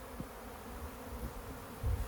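Honeybees swarming in dense numbers around a beehive entrance out of control, a steady close buzzing drone with occasional louder passes near the listener.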